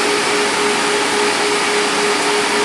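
A Pistorius MN-200 saw fitted with a SawGear automated stop drives itself to a programmed length, giving a steady, loud motor whine with a constant tone held throughout.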